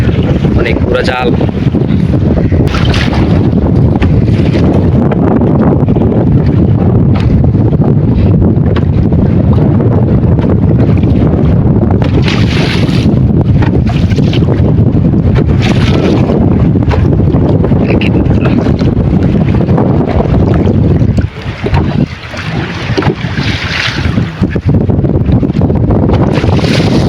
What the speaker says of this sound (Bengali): অনেক ঢেউ নদীতে, দেখেন ও কি পরিমাণে ঢেউ হইতেছে,